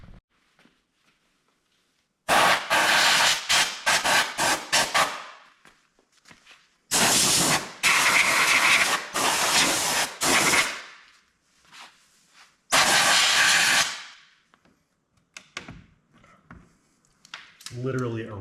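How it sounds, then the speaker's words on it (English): Compressed air nozzle blasting embedded rocks from between plastic body panels on a Chevrolet Corvette C8, in three loud, close hissing bursts of several seconds each, separated by quieter gaps with faint handling noises. "I'm gonna actually get a air nozzle and blow that out before I install this new one."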